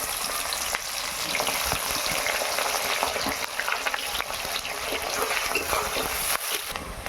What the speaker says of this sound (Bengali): ওই তেলেতেই আমি এবার দিয়ে দেবো তেজপাতা। এবার আমি দিয়ে দেবো পেঁয়াজ